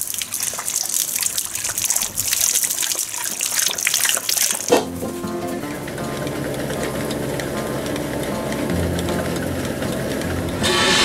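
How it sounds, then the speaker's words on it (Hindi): Water gushes steadily from an opened tap after a sharp click, a continuous close splashing stream that runs on alone with no talk. "मैं टैप खोलूँगी।"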